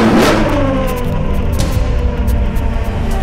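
A car engine revs loudly at a political event, a continuous rumbling roar that rises and falls slightly and carries no speech.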